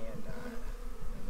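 Honey bees buzzing close around a pollen trap at a hive entrance, a dense continuous drone with wavering pitch as several insects hover nearby.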